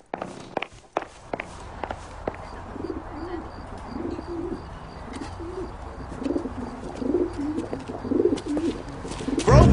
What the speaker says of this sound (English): Drunk and in command of a carrier pigeon.